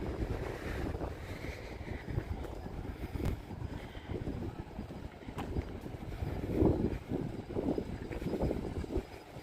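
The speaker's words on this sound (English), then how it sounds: "the wind picks up as soon as I say, how's the wind?" Wind gusting outdoors at Hollywood Studios theme park, buffeting the microphone with uneven rumbling bursts that rise and fall throughout, loud and close.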